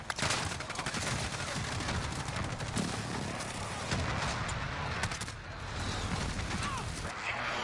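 A chaotic video game battlefield in Modern Warfare fills the scene with constant dense gunfire and blasts at a moderate level; no single distinct Kraber sniper shot stands out from the din.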